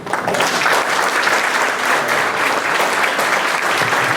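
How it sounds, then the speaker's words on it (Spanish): A conference audience at a ufology congress in Lima applauds steadily, a dense, even wash of clapping that holds at the same loudness from start to finish. "Y un fuerte aplauso"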